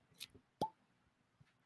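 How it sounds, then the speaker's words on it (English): A cork pops out of a bourbon bottle: one crisp, hollow plop, close and quiet, surrounded by a few soft handling clicks. "But first one had a good cork pop."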